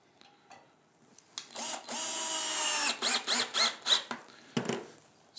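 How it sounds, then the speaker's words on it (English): A screw is driven into a sewing machine stand, a VMA stand for straight stitch machines. It gives a close, sustained whirring buzz that breaks into several short pulsing bursts, with a few light clicks around it and no talking. "We now will put this screw into position."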